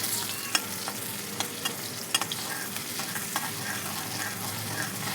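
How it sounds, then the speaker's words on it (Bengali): Onions fry in a pan while being stirred, a soft continuous sizzle broken by scattered scrapes and clicks of the spoon, fairly faint and without talk. "এবার পেঁয়াজটা আমি ভালো করে ভেজে নেব।"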